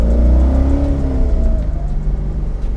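A modified 550 hp C5 Corvette Z06 V8 accelerates hard and loud, its engine note climbing steadily in pitch as it pulls through the gear, with no voices over it.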